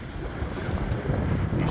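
Atlantic Ocean surf and gusting wind at Peggy's Cove, Nova Scotia, rumble low and broad against the rocks, with steady wind buffeting the microphone throughout.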